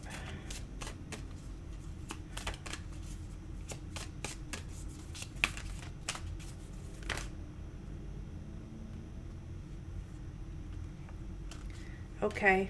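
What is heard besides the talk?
shuffling tarot cards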